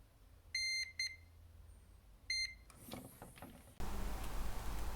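A multimeter in continuity mode beeps while probing pins on a consumer motherboard: two short, sharp, high beeps a couple of seconds apart, followed by scraping handling noise and a rush of louder noise at the end.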